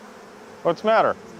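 Honeybees swarming by the thousands over a laptop test rig, buzzing in a short close burst with a brief spoken question over it.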